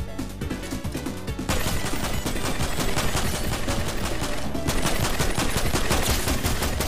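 Rapid, continuous gunfire in the Fortnite video game, a dense barrage of shots that gets louder and heavier partway through and keeps going without pause.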